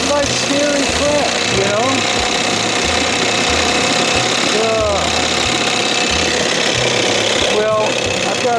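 A 1968 Evinrude 6 hp outboard motor runs up close with a loud, constant rattling chug that knocks steadily and never lets up. A voice can be heard faintly under the engine noise.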